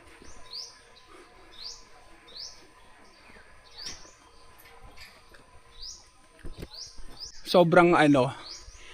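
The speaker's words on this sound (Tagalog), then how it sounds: "yung mga naririnig mo yung mga huni ng ibon" Several short, high bird chirps repeat at intervals against a quiet outdoor background at a resort in Unisan, Quezon, Philippines, followed near the end by a louder, busier burst of calls.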